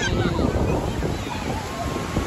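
Sea waves wash and crash onto the shore in a continuous broadband roar, mixed with gusting wind buffeting the microphone at a seaside viewpoint.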